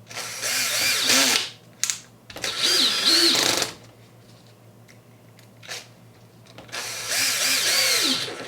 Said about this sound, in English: Gonna put the screws in.